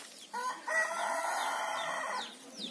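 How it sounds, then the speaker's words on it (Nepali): Rooster crowing loudly and close, with a long sustained crow preceded by short clucks, on a farm that also keeps rabbits and ducks. "कुखुरा"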